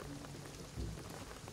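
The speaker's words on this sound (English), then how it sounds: "What I'm telling you is the rain is gonna flood it." Rain in the video game Shadow of the Tomb Raider: a steady, dense wash of falling rain on surfaces with a soft low rumble, continuous and alone.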